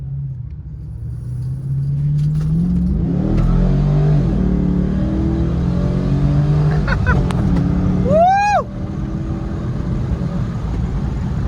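The V8 engine of a 2013 Chevy Caprice PPV sedan roars as it accelerates hard from a 30 mph roll, its rumble rising and swelling, with a voice whooping partway through before the engine settles lower.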